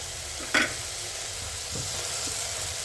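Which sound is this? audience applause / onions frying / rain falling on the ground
onions frying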